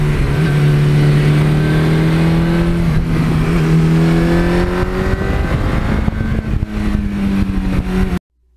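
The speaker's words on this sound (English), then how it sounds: "I just love jumping on this bike any season of the year and opening that throttle up." A 1982 Suzuki GS1100E motorcycle engine revs loud and close as the throttle is opened, its pitch climbing and holding in sustained pulls before cutting off abruptly at the end, with no voices.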